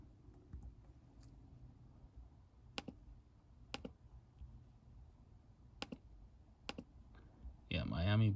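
Isolated computer keyboard keystrokes during an online fantasy football draft, a handful of sharp, quiet clicks spaced a second or more apart over a low background hum, ending in a brief louder burst of noise.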